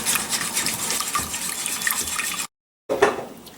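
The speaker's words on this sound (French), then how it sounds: "Quand ça commence à trop épaissir, je rajoute le reste de mon lait." Milk pours into a thickening béchamel sauce for parmesan fondue, a steady close liquid rush that cuts out briefly and then resumes, with no talk.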